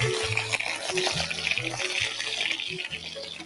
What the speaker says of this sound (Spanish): esto a lavar, las manos limpias